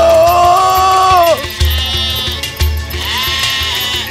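Several sheep bleating in a cartoon fairy-tale scene, a long wavering bleat followed by shorter overlapping calls over a low rhythmic thumping, loud and close.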